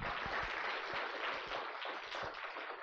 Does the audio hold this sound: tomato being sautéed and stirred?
no